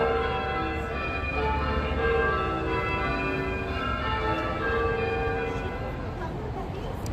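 Bells ring out on the Las Vegas Strip, a sustained, layered tolling with overlapping ringing tones that hangs steadily over busy outdoor ambience throughout.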